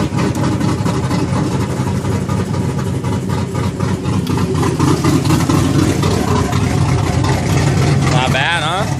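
A Pontiac GTO with a 6.0 engine, upgraded heads, cam and intake, idles with its exhaust cutouts closed, giving a loud, steady, continuous rumble throughout, with a voice partly over it.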